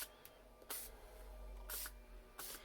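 Three short hissing bursts from an aerosol spray can, each a second or less, separated by pauses, close by over a faint background hum.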